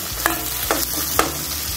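Okra chutney ingredients with salt and turmeric sauté in a pan, giving a steady sizzle with a few distinct scrapes and stirring knocks over less than two seconds, and no speech.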